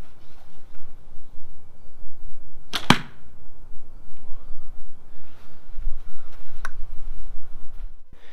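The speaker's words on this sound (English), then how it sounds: "so let's put this arrow downrange" A homemade wooden arrow loosed from a bow and flying downrange gives a single sharp, loud crack near the middle, then a faint later tick over quiet outdoor background.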